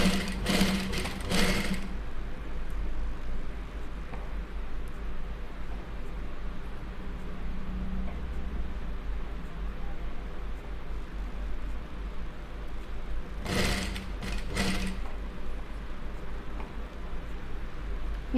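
A sewing machine stitching fabric for a fancy neck design, running as a steady close whir for most of the time, with brief clattering bursts near the start and again toward the end.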